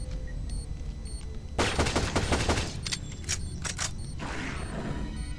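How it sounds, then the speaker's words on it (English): Minigun fire in the video game Shadowgrounds: a loud, rapid burst of shots lasting about a second, followed by a few more scattered sharp bangs and a fading rumble, with no talking. "Minigun, go shoot him."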